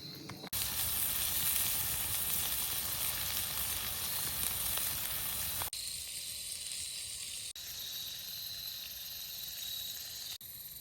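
Food frying in a pan gives a loud, steady, close sizzle for about five seconds, then continues as a quieter, even hiss broken by a few abrupt cuts. No one speaks.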